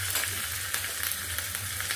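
Curry leaves and mustard seeds crackle and sizzle in hot oil for a tempering, a steady close, loud frying hiss with small pops throughout and no talking.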